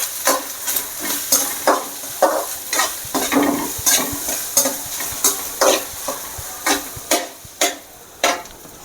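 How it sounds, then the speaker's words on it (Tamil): Grated coconut and other ingredients for sambal rice are sautéed in a pan, with a steady frying sizzle and a spoon scraping and stirring in regular repeated strokes, close and alone. "எல்லாம் நல்லா வதங்கிட்டுருக்கு."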